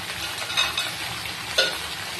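Flat beans and potatoes frying in a pan give a continuous sizzle, broken by a couple of brief spatula scrapes, close and without speech.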